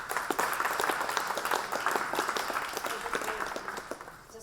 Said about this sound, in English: Just being applauded for being head of the department.